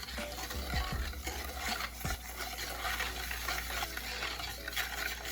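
A pot of barbecue sauce for oven-baked pork ribs, with a can of lemon-lime soda just added, is stirred in a steady, continuous swishing and scraping with a faint simmering bubble underneath and no talking.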